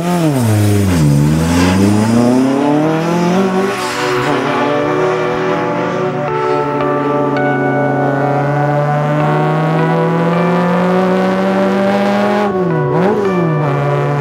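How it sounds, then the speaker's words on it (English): An Alfaholics GTA-R, an Alfa Romeo Giulia Sprint-based car with a four-cylinder double overhead cam engine, revs loudly and close by, rising and falling through several gear changes before holding a steady note, then dipping and pulling again. "which of course has a fabulous four-cylinder double overhead cam engine, which makes a gorgeous noise"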